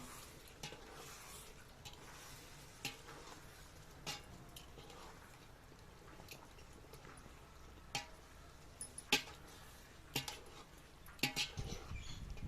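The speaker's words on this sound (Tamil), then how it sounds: "சிக்கன் சேர்த்து இந்த மசாலாக்குள்ளே நல்லா கலந்து விட்டுக்கோங்க." Marinated chicken is stirred into a frying masala for village-style chicken biryani, with a soft continuous sizzle under scattered scraping and clinking of a spoon against the pot.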